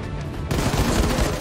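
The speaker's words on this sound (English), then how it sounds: "Oh yeah, the diesel cannon." A diesel cannon in the shooter game The New Colossus fires, a sudden loud burst of rapid gunfire-like blasts kicking in after a quieter half-second lead-in and continuing to the end.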